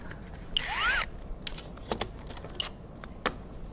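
Propeller screws being unscrewed on a P100 gyro, a short burst of metallic ratcheting and squeaking from the tight screw, followed by scattered small clicks and taps of tool and parts, close and clear with no talking.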